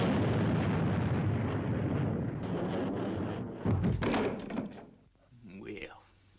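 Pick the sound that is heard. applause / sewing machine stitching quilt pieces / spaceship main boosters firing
spaceship main boosters firing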